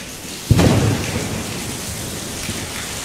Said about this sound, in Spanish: ¿puedes parar la lluvia?